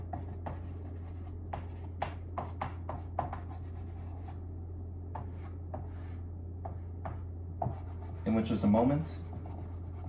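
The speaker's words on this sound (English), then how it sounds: "And we'll write this down." Marker or chalk writing on a board: scattered short scratchy strokes over a steady low hum, with a person talking briefly.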